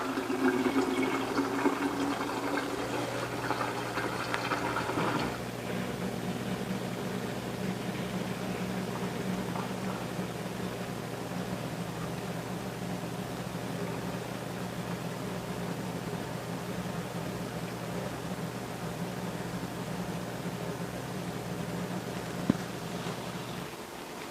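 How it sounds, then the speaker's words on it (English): Steady hum of an Electrolux/Frigidaire steel-tub dishwasher's drain pump with rushing, filling water beneath it; a louder churning surge fades after the first few seconds. "Drain pump's running, water's going in."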